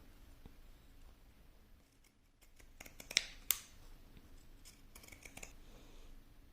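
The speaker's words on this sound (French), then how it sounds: "Donc avec mes ciseaux cranteurs" Pinking shears snip around curved fabric seams, producing a handful of quiet, close crisp cuts with two sharper clicks in the middle, against a soft background.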